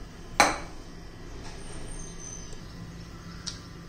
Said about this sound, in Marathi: आता मी तवा गरम करण्यासाठी ठेवतेय.